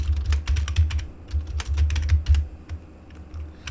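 A computer keyboard clatters with quick bursts of keystrokes as Python code is typed, close and crisp, with short pauses between runs of typing.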